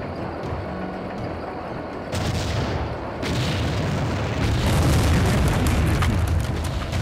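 Battle gunfire and artillery blasts from the strategy game Empire Earth, a dense, continuous roar of booms and bursts that swells louder partway through, with no talking.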